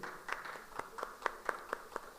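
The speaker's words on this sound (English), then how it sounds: "Let's give him a round of applause, please." A small conference audience welcoming a guest speaker on stage with sparse, separate claps from a few people, soft and irregular, thinning out quickly.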